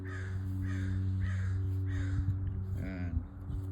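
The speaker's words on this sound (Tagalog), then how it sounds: "Ang ingay na yung ibon na yan ha." A crow-like bird caws loudly and repeatedly outdoors under clear blue skies, about five harsh calls in steady succession over a constant low background hum.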